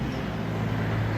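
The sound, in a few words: car passing by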